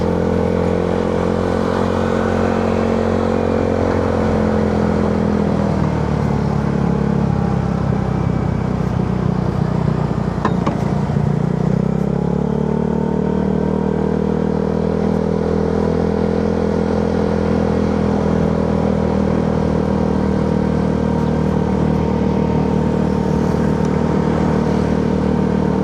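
A motor scooter ridden on the road near Philippine Arena, its engine droning steadily with pitch rising and falling as it speeds up and slows, wind and road rumble under it, loud and close for the whole stretch.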